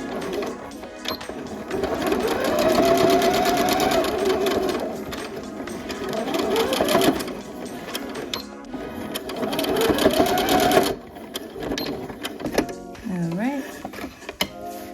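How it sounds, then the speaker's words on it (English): A sewing machine stitches denim for a dress, running in long steady bursts with brief stops for back stitching, close up, with a voice talking over parts of it. "Make sure to back stitch at the beginning as well as the end."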